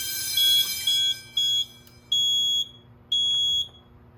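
Edwards 6500 school fire alarm system beeping during a test, sounding as loud repeated high electronic tones in short bursts with brief gaps, heard close with a faint background hum.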